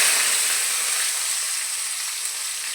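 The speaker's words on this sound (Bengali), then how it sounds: "মাছ ভেজে নিচ্ছি।" Pabda fish fry in a pan, a steady broadband sizzle that holds evenly throughout, close and without talk.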